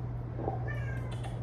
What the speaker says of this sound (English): you will hear a cat meowing in the background because he wants attention.